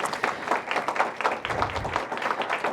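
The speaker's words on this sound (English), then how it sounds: "Give him a big round of applause." Audience applause for Councilmember Vincent Orange at a District of Columbia business announcement with Mayor Bowser, a steady patter of clapping hands sustained for a few seconds at moderate volume.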